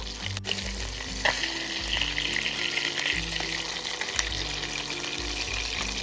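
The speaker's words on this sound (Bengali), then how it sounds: "সেম প্রসেসে আর দুটো মাছ আছে এটা ভেজে নেব" Whole fish, rohu for a Bengali doi katla, frying in hot oil in a wok, a steady close sizzling crackle with stirring and light splashes throughout, no voices.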